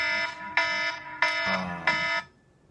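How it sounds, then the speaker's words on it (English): An electronic alarm beeps in four repeated bursts, each about half a second long, loud and close, then it stops. "see, that's my alarm to go pick up my son now"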